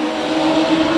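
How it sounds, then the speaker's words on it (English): Legends race cars at the Las Vegas Bullring roar together out of turn four in tight racing, a loud, steady, dense engine drone with no break across the moment. "we got some tight racing coming out of turn number four"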